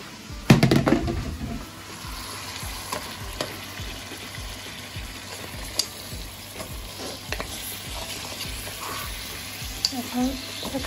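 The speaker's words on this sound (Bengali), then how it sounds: "এখন খাসির মাংসটা আমি ভালো করে কষিয়ে নেব।" Goat meat fries with spices in a pan, a steady low sizzle with frequent spatula scrapes and stirring clatter, opening with a louder clunk of the pan or utensil.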